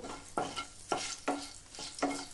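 Dried chilli, bay leaf, cardamom, cinnamon and cloves frying in hot oil, heard as a soft sizzle with about five distinct stirring scrapes at a steady pace, close and quiet with no talk.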